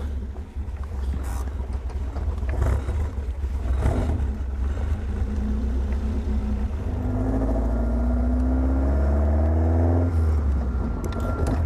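Westfield car engine running rough on a dyno, a loud close uneven drone whose pitch rises and falls with revving, with wind-like rushing noise throughout.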